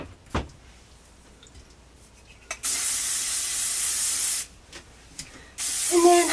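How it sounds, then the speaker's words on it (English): Hair spray from a can hisses in two long steady bursts of a couple of seconds each, loud and close, with a few faint clicks and handling sounds in between. "this spray particularly I like because it's soft"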